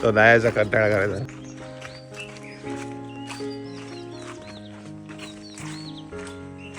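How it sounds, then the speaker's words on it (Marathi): Brief laughter and speech, then scattered high bird chirps in a Konkan village over a steady humming drone, fairly faint and intermittent. "पक्ष्यांचा आवाज येतो बघ दुसरं काय नाही"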